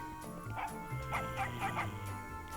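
A cartoon dog barks several times in the video game Doggy Don't Care, short clipped yaps in a quick cluster over quiet game background sound.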